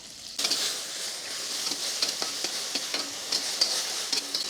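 Capsicum and onion hiss and crackle as they are stir-fried in a wok, with light scraping and pouring splashes as sauces go in. A steady close sizzle carries brief clinks of the utensil throughout, with no talking.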